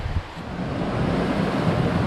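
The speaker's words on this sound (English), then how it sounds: "We have been walking along, I think it's the west branch of the Peabody River." Steady broadband rush of the west branch of the Peabody River flowing along a mountain trail in the Great Gulf near Mt Washington, a continuous close wash of water with a brief bump at the start.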